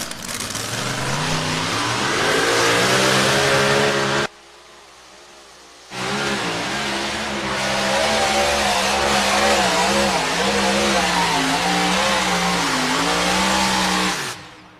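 A pulling tractor's engine roars loudly at a fairground pull, revving with a wavering pitch, dropping off briefly, then surging again as the turbo chirps and the engine sputters.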